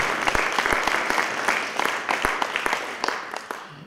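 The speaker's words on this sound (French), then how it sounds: "Oui, vous pouvez l'applaudir." Audience applauding a guest author at a literary closing evening, steady clapping with sharp individual claps standing out, fading toward the end.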